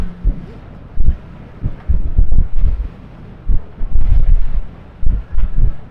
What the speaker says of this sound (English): she's already getting a little bit breezy